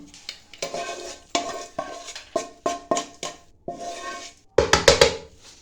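Dry fruit laddu mixture of dates, pistachios, cashews and almonds scraped and stirred into a large pot, giving repeated close metallic clanks and scrapes of a spoon against the vessel in an irregular rhythm, with no talking.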